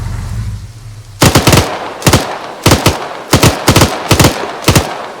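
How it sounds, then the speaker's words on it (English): Automatic gunfire in the ARMA 3 video game, loud close bursts of rapid shots repeating at roughly even intervals after a short low rumble at the start. "My friend is shooting."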